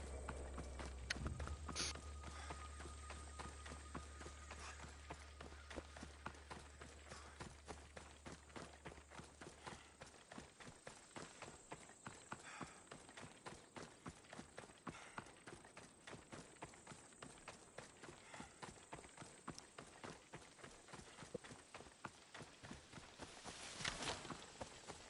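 Horse hooves clip-clop steadily in Assassin's Creed Odyssey, a fast, even rhythm of many close, distinct hoof strikes running throughout over a faint background hum.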